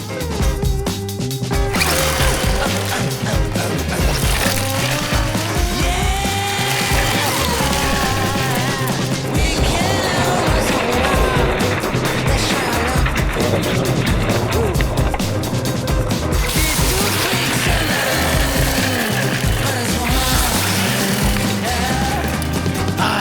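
A new RC rally car being hooned and sent over jumps in light leaf bashing, its loud whining motor revving up and down continuously with rattling chassis and tire noise, close and steady throughout.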